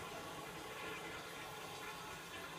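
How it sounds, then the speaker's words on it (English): Tap water runs steadily into a bathroom sink during handwashing, a continuous even hiss and splash heard up close with no voices over it. "Now I'm going to wash my hands, make sure that they're all clean and tidy"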